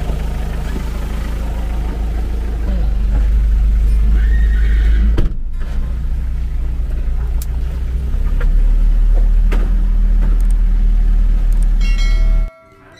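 A Cremello horse whinnies on a farm over a steady low rumble of nearby machinery or a vehicle, the call rising clearly above the background before cutting off abruptly near the end.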